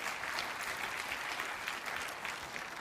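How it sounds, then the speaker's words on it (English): Tech talk audience clapping in a steady, moderately loud wash of many hands, sustained evenly for a few seconds. "Give us a clap if you think so."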